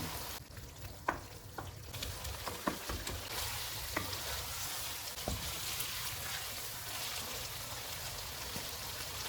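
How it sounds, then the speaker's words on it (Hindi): A BBQ chicken karahi fries over a full flame, giving a steady close sizzle with scattered pops and crackles throughout, no voices present. "चूल्हे को फुल कर देते हैं और इसको 3 से 4 मिनट तक भूनेंगे।"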